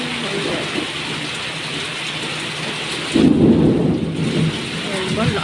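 Rumbling thunder during a heavy rainstorm with strong winds, a loud low roll that swells partway through over a constant hiss of rain, with no talking.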